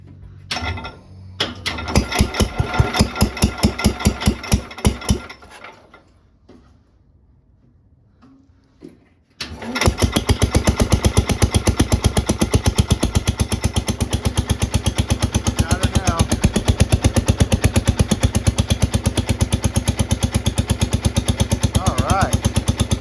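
A Cub engine running close by, chugging in rapid pulses before cutting out to near silence, then restarting and holding a steady, even beat with a little throttle.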